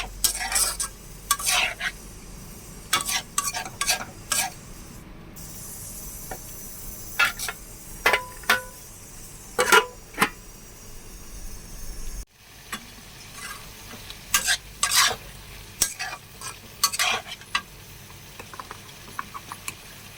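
Pumpkin pieces being stirred with salt, turmeric and cumin powder in a cooking pan, giving repeated scraping and clattering strokes with short pauses between bursts, close and fairly loud, no talking.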